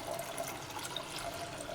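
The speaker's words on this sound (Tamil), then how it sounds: "அதை 1க்கு 2 தடவை வாஷ் பண்ணிக்கலாங்க" Running water pours and splashes steadily while lentils (dal) are rinsed for sambar, a close, continuous wash with no talking.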